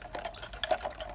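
A water and insecticide powder mixture in a small container is stirred, with quick, close scraping and light knocks against the container, quiet and brief.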